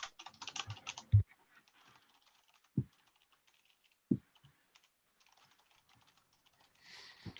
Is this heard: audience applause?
no